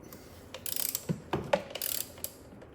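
A ratchet with a 16mm socket and extension turns a bolt on a Porsche Cayenne Turbo 958 during spark plug and coil work: short bursts of rapid metallic clicking separated by brief pauses, close and alone.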